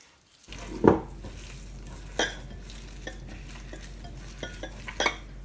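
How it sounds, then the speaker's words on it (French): Spoon stirring minced meat with spices and sunflower oil in a bowl, soft wet mixing under a steady background hum, with a few sharp clinks and scrapes against the dish. "Ensuite, je mets l'huile de tournesol. Et je viens mélanger."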